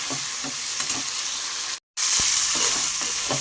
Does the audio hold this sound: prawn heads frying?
yes